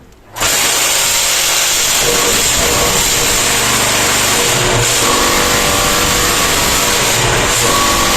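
Upper and lower vibrators of a block-making machine pressing sand and snow into a block start abruptly and run loud and close, a harsh steady buzzing drone with slight surges.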